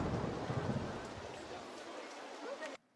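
Rain falling in the Roller Coaster Tycoon park-building game, a steady broadband hiss with soft low rumbling that fades slightly before cutting off abruptly near the end.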